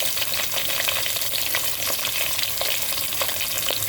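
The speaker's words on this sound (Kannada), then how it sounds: "Let it fry." Two big sliced onions fry steadily in hot oil for chicken biryani, a continuous close sizzle with faint stirring crackles and no voices.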